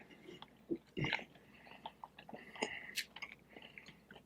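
Close, moist chewing and biting on barbecue chicken baked inside cornbread, soft irregular smacks and squishes with a couple of louder bites, no talking.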